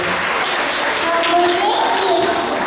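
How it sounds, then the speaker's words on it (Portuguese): Children applauding at a Sunday children's Mass, a busy crowd clapping with voices and child chatter mixed in throughout and an adult talking over the clapping. "Vamos aplaudir, crianças, vamos para cima."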